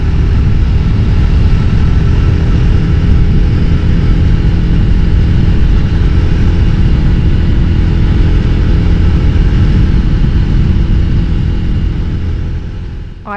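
A restored 1954 Jawa Perak motorcycle is ridden with a loud, steady engine drone and heavy wind rumble throughout, fading slightly at the end.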